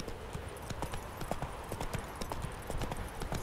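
Roach the horse's hoofbeats in The Witcher video game, a steady close clip-clop of hooves striking ground in a brisk repeating rhythm, with no talk over it.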